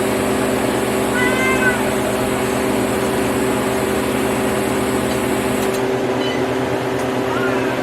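A cat meows a few times at moderate distance over a steady mechanical hum from a running freeze dryer, with some faint background noise.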